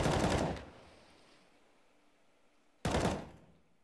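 AK rifle fire in Counter-Strike: a loud, close burst of rapid shots, a fading echo, then a second sharp burst near the end, with no voices.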